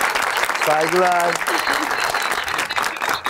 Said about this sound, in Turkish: alkışlayın lütfen